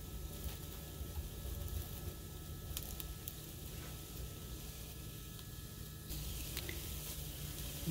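Vegetables sautéing in extra virgin olive oil in a preheated pan give a steady, soft sizzle and patter that runs throughout, moderately close and fairly quiet, with no talking.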